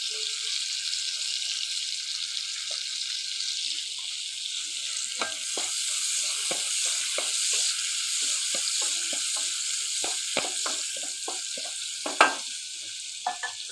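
Thinly sliced onions fry in a pan with a steady hiss, broken by clicks and crackles from stirring that grow busier in the second half, with a louder tap near the end.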